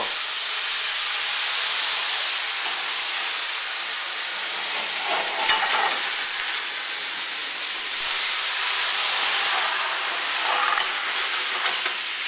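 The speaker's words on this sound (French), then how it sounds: "donc juste un petit flambage comme ça" Steady, loud hiss of cognac flames flaring in a pan, a broad rushing roar with brief crackles, continuous throughout and no voices.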